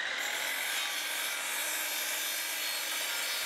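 A miter saw cuts through a thick 8x8 wooden barn beam, giving a steady, loud, close whine with a grinding edge that holds unbroken for several seconds.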